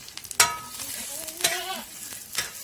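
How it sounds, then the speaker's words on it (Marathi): Lentils and peanuts dry-roast in a pan, giving a few short scraping stirs and rustles with a faint crackle beneath, close up and with no talk. "मी थोडीशी डाळ आणि थोडीशी शेंगण घेतले ते ना तर ते भाजून घेणार आहे मी आता"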